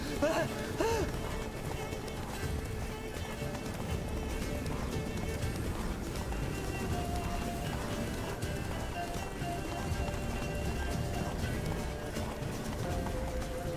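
A horse gallops in The Witcher 3 video game with rhythmic hoofbeats under a dense layer of game sound and music, while voices talk over it.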